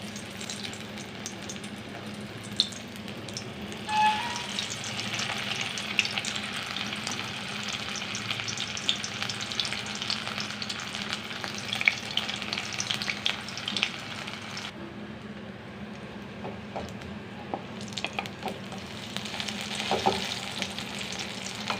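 Fish coated in gram flour and semolina frying in hot oil, a continuous close crackling sizzle with occasional spatter pops and some stirring, heard alone without talk.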